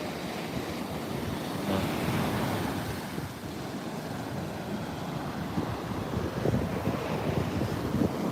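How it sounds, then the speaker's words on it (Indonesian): Large waves break on an eroding beach at Pantai Kapuah, Tarusan, in West Sumatra, a continuous roar of surf mixed with gusting wind buffeting the microphone, with no speech. "ombak yang cukup besar."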